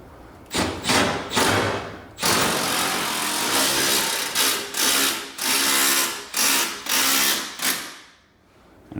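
A small impact driver sets a 5/16 by 2 1/4 inch Tapcon masonry screw into concrete. It fires in a series of loud, close bursts of rapid hammering separated by short pauses, with nobody speaking.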